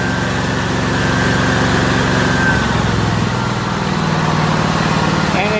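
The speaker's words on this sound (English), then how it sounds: "And it just idled back down again." A Hobart generator engine settles back to a steady idle, a continuous loud mechanical drone with an even rhythm throughout, heard alone without talk.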